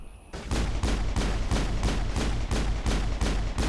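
Video game gunfire rattles in rapid bursts after a brief quiet start, sharp repeated shots in a steady rhythm, loud and continuous with no talk over it.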